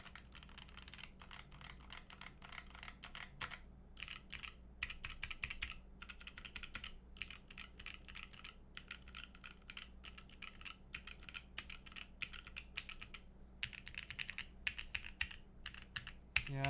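Steady, fast typing on a custom 75% keyboard fitted with lubed Holy Panda X switches and PBT keycaps, a continuous stream of muted tactile clacks close up with no voices.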